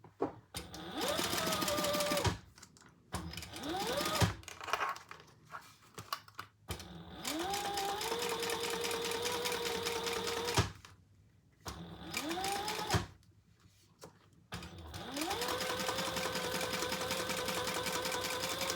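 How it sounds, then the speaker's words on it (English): A sewing machine topstitches a black leather pumpkin bag in several steady whirring runs of a few seconds each, separated by short quiet pauses, close and alone. "we're going to top stitch"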